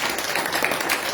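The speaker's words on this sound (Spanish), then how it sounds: "¿Le puede dar un aplauso al Señor Jesús?" A church congregation breaks into dense, sustained applause, many hands clapping at once in a short, steady burst with no voices on top.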